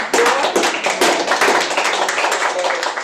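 Applause at a small speech contest club meeting: a handful of people clapping close by, individual hand claps distinct and uneven rather than a blended roar, with faint voices underneath.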